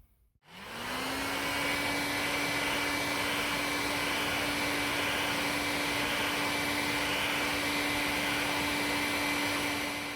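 Heat gun switching on and running steadily to warm and dry a motorhome tyre, a sudden start rising into a constant loud whirring hiss with a steady whine, alone for about ten seconds.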